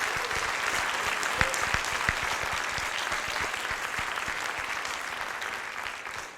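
Audience applause at a high school National Honor Society induction ceremony: a room of steady clapping with distinct individual claps close by, continuing evenly and tapering slightly at the end.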